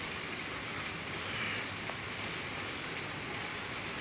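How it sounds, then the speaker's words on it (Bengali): Steady nighttime rain from a low-pressure system falls at 9:30 pm, a soft, even hiss running unbroken at low level with no voices over it. "এটা পুরো নিম্নচাপের বৃষ্টি।"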